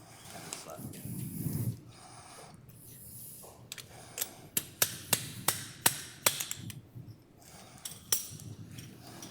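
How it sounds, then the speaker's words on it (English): A series of sharp metallic taps from a slap hammer during spinal surgery, about eight in a steady rhythm, close by, after a stretch of quiet breathing and rustling. "The slap hammer."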